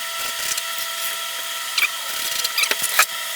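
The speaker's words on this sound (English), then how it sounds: "I'm just going to put a self-drilling screw right here." A drill runs in short bursts with squeaky, grinding pulses as a self-drilling screw bites into metal on a Honda CR-V, fairly close and steady underneath.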